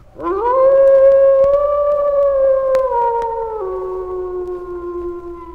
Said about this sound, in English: The howl of the threatening wolf, that ugly signal of catastrophe, echoes through our culture